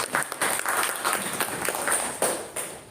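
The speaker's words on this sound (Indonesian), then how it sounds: "Kita beri aplaus dulu semuanya" An audience applauds at a virtual Ramadan pesantren session, a steady wash of many hands clapping with no pause.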